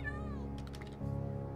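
A short cat meow sounds from a video game, rising and falling tonally over a steady bed of game music and ambient tones.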